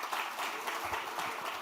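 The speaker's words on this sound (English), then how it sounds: "Please give Herbie Miller a big round of applause." Audience applause at a Jamaica–Sierra Leone family reunion event, greeting a speaker named Herbie Miller; a short, moderately quiet burst of many hands clapping steadily, without voices.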